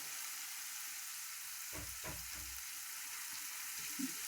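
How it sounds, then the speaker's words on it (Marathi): Green chilies fry in hot oil with a steady, hissing sizzle. A few soft scraping stirs come in the middle and a brief clink near the end, close and moderately quiet with no talking. "बघा चांगलं तर मिरची तेलात चांगली फ्राय होऊ द्यायची बघा"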